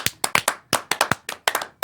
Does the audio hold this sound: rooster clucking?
no